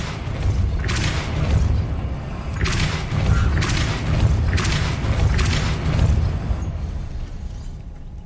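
Depulso spell cast in the video game Hogwarts Legacy: a series of four or five heavy, booming thumps with whooshing bursts, spaced about every second or two over a continuous low rumble of game ambience.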